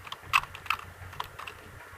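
Keys clatter on a computer keyboard as C program code is typed, a quick irregular run of close clicks with a couple of louder strikes and a low hum beneath.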